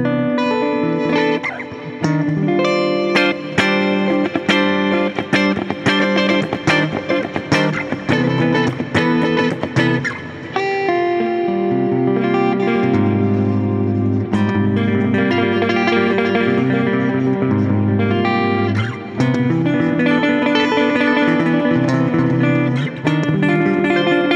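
Clean-toned electric guitar on the neck pickup runs through an Axe FX II, playing bright, ringing chords and picked single notes with quick percussive strums at first, then sustained, fuller notes, loud and alone.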